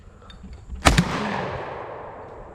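A single loud Mossberg JM Pro 930 shotgun blast at a clay shoot, a sharp crack with a long rolling outdoor echo fading over two seconds.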